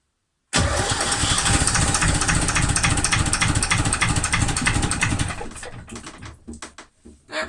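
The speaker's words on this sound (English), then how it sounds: "So now it's time to turn the engine over just to see that it starts." A boat engine cranks and catches abruptly after a fuel filter change, then runs loud and steady for several seconds before faltering into uneven, sputtering bursts near the end.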